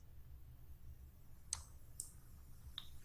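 Three sparse computer mouse clicks on a reload button, spaced about half a second to a second apart, crisp and close against a quiet low hum.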